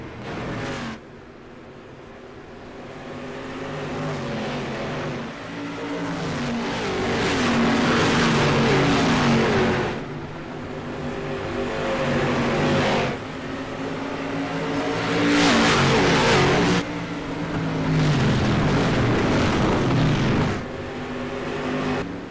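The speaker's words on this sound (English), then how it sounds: "Jeremiah Burke on the gas." Race cars accelerate hard around the Five Flags oval in a sim racing game, with loud, repeated engine revs rising in pitch, each surge building over a few seconds before dropping as a gear changes, continuous and close throughout.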